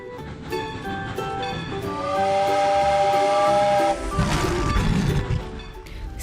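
A steam train whistle blows long and loud with a bright harmonic tone, joined by a burst of hissing steam and clatter near the end; no one speaks.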